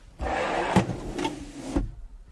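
A large storage drawer in a 1997 Roadtrek camper van slides open with a smooth rolling rumble, punctuated by a couple of soft knocks and a final clunk as it stops.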